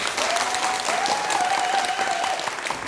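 Audience applause at a Korean speech contest, a steady loud wash of clapping from a crowd that carries on throughout, with a faint tone running underneath.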